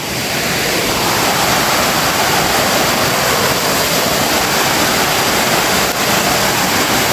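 Loud, steady rushing water fills the whole stretch, a continuous close roar of flow with no voices.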